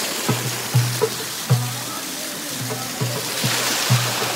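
A stream at Meethirigala rushes in a steady broadband wash, with repeated short low knocking pulses sounding over it.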